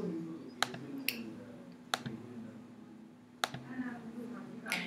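Computer mouse clicking in a quiet room: four or five sharp, isolated clicks spaced about a second apart, close and crisp over a faint steady hum.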